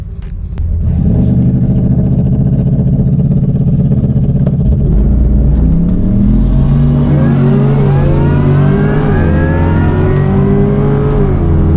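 A Corvette E-Ray launches hard on a race track, its engine roaring loud and close from a standing start and climbing through rising revs with no talking over it.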